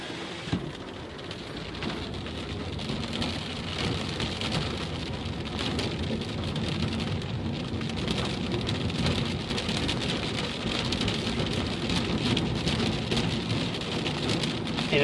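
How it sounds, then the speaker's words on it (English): Steady rain pours down heavily in Tucson, Arizona, a constant close patter on surfaces with no voices, dense and unbroken throughout. "It started raining."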